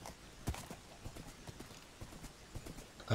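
Horse hooves clip-clopping in the Minecraft video game, a quick, steady run of light clops repeating throughout, fairly faint and alone.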